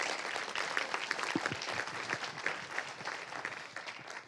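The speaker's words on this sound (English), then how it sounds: "let's give him another round of applause." Moderate applause from an audience at a medical grand rounds presentation, with individual claps audible within the crowd sound and the clapping gradually thinning toward the end.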